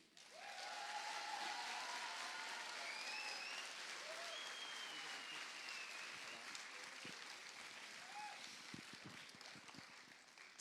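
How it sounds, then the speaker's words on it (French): Sustained applause from an audience at a FIRST LEGO League robotics award ceremony, steady clapping throughout with voices and cheers mixed in, fairly faint and distant. "ces applaudissements font vraiment du bien à tous les bénévoles"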